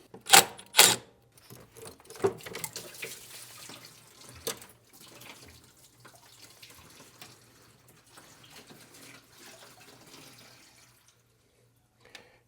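Engine coolant pours from a removed lower radiator hose on a shop truck into a drain pan, a close splashing gush that starts with sharp spatters and then settles into a steady trickle before stopping, with no talking.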